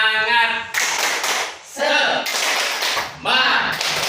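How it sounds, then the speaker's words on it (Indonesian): Short bursts of group rhythmic clapping, an Indonesian spirit clap in a training room, alternate with a group of voices chanting together between the claps. "Oke, kita tepuk semangat lagi, ya."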